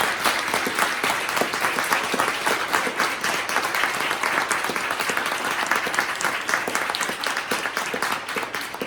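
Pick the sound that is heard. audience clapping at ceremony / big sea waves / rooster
audience clapping at ceremony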